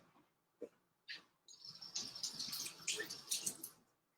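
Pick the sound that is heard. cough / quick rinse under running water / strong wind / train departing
quick rinse under running water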